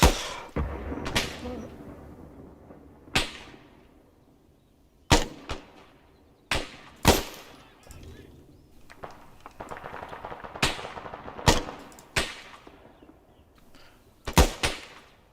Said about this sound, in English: Keep suppressing right, Monarch.